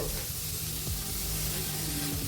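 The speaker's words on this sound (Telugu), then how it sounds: "ఇప్పుడు ఫ్లేమ్ హైలో పెట్టేసుకొని ఫ్రై చేసుకోవాలండి" Vegetables for cabbage rolls frying in a pan over a high flame, a steady close sizzle and hiss running unbroken with faint stirring scrapes.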